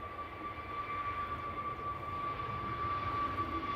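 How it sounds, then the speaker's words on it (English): EasyJet Airbus A320neo jet on its takeoff roll at Manchester Airport, a faint, steady distant engine roar with a thin high whine holding level throughout. "EasyJet to Faro on the roll, flight 2215. It's an A320 Neo GUZHI."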